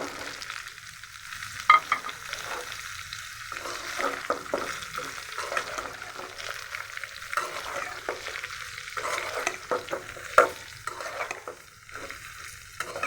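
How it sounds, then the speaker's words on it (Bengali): Sun-dried mango pieces fry in hot oil with a soft, steady sizzle, punctuated by intermittent scraping and tapping as they are stirred in the pan. No one speaks. "আমটা আমি তেলের মধ্যে ভেজে নিচ্ছি।"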